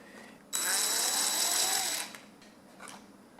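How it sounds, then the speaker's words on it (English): A powered screwdriver whirs for about a second and a half, removing a screw from a dusty table fan, a close buzzing run followed by a few faint clicks of handling. "I'm going to remove this screw here."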